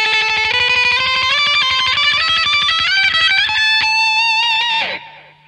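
A saturated electric guitar lead runs through an MXR Phase 90 pedal, with rapid picked notes and a sweeping phase swirl, closing on a bent note that fades out.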